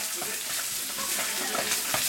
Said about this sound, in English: you then add chilies, there's three large chilies in there, and garlic